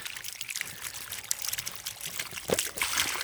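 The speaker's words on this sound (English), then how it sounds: "I'm going to let some water come out." Water drains and trickles out of an opened swimming pool filter housing, a close, continuous splashing pour with irregular gurgles and dribbles.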